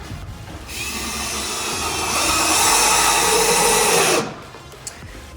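A drill whirs steadily for about three and a half seconds, driving trim head screws into wooden legs of a large rustic coffee table, its pitch rising slightly before it stops, then a small click.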